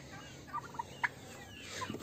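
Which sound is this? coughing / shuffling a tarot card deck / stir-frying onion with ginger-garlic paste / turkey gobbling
turkey gobbling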